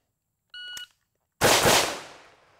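Electronic shot timer beep, then a single loud, close AK rifle shot with a sharp crack and a reverberating decay outdoors; no talking.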